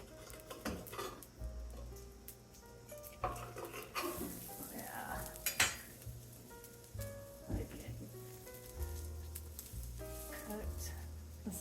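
A grilled cheese sandwich browns in a pan, a faint sizzle under quiet kitchen sounds as a utensil clinks and scrapes against the cookware in scattered bursts, with a voice talking now and then.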